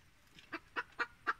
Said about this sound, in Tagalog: medyo may ilap pa yung mga nakuha kong manok